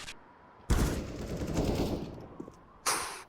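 Counter-Strike: Global Offensive gunfire during a professional match, a loud sustained burst of rapid automatic shots followed by another sharp volley, close and dominant with no talk over it.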